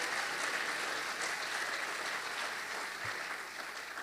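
A church congregation gives sustained applause, a broad and even wash of many hands clapping at moderate distance that fades slightly toward the end, with no clear voices.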